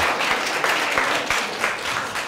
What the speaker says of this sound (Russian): А теперь аплодисменты.